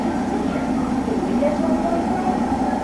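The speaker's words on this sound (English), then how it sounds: "I think this is an Amtrak Silver Star train that's approaching us, AEM7, had a doubleheader." An Amtrak Silver Star train led by AEM7 electric locomotives in Train Simulator 2016 approaches as a steady, rumbling rail drone that holds even and continuous throughout.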